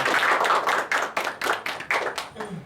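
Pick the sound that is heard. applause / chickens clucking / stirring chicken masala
applause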